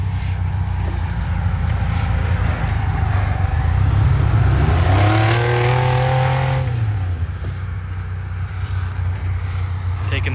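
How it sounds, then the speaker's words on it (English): A rear-engine race car at an unlimited shootout roars past, its engine note climbing and sweeping through a passing drone before fading, heard loud under a commentator talking. "This is a rear engine car."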